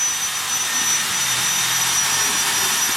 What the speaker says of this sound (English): hit everything with a wire wheel.